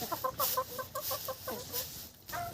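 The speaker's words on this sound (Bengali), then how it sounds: "একটা মুরগি তা নিচ্ছে" A brooding desi hen clucks in a steady run of soft, evenly spaced notes close by, fairly quiet, with faint background noise.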